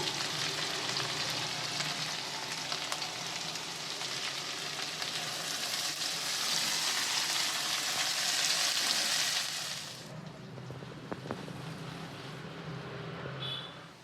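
Chopped onion and vegetables fry in a pan for egg-chicken glass noodles, a loud, dense sizzle that runs for about ten seconds, then drops to a quieter hiss with a few stirring clicks.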